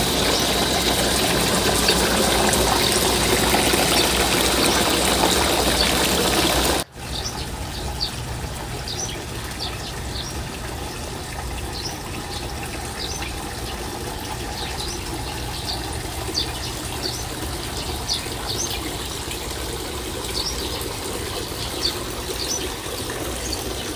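A waterfall rushes as a constant broadband hiss, loud and steady; after a brief cut it continues slightly softer, with faint chirping birds scattered over the wash of water.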